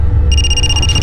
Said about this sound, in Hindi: फोन आ रहा है हमारा